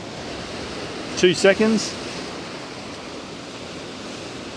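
Ocean surf breaks over the granite rocks of Granite Bay, Noosa, as a constant hissing wash. A person speaks briefly partway through, over the steady waves.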